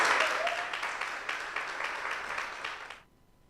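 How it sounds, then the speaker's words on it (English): At a university Three Minute Thesis competition, the audience claps as a participant walks to the stage, a broad sustained round that slowly fades and then stops abruptly into near silence. "Let's give her a round of applause as she's proceeding to the stage"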